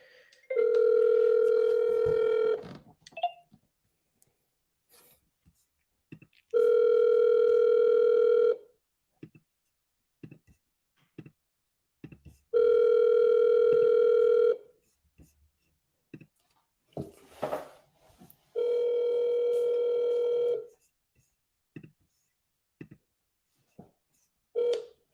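A telephone line gives four long, steady ringback tones with silent gaps and faint clicks between them, heard up close while calling a seller.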